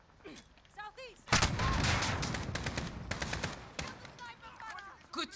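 Rapid automatic gunfire in a Call of Duty Modern Warfare campaign battle, a loud sustained burst of close shots after a quieter opening, followed by scattered bursts and shouting voices.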